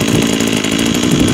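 A Badger WB26BCI 26cc brush cutter engine running close by, a loud, steady two-stroke buzz with a dense rapid rattle throughout the short stretch.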